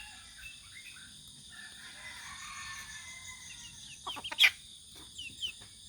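Backyard chickens cluck softly, with a few short bursts of clucking and calls toward the end over quiet outdoor ambience, faint to moderate and fairly near.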